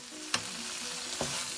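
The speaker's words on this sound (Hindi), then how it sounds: "हल्की आंच पे इसको भूनना है" Tripe with onion and garlic stir-fried over low heat, the pan sizzling steadily with two sharp scraping stirs of a spatula, close and alone with no voice.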